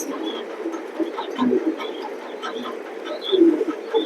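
Racing pigeons coo repeatedly inside a loft, soft throaty calls close by with a few faint chirps, over a low steady background.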